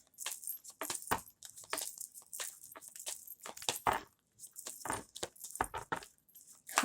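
Tarot cards are shuffled by hand in quick irregular bursts of crisp riffling and slapping, close and fairly quiet with brief pauses between handfuls, and no talking.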